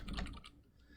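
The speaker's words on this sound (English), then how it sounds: "we're going to set it up by just typing it here" Brief burst of computer keyboard typing while entering an integral into a calculator program, a few quick clustered keystrokes fading out within about a second, fairly quiet and alone.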